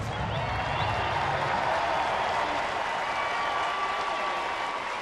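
Baseball crowd at Angel Stadium rising in a standing ovation for Torii Hunter, a broad, sustained wash of clapping and cheering from a thin, distant-sounding crowd, steady throughout with no break.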